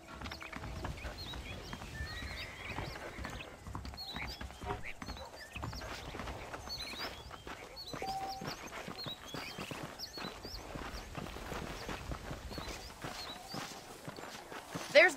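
Horse hooves clip-clop at a steady walking pace through the Red Dead Redemption video game, mixed with ambient game sound and a voice talking over them.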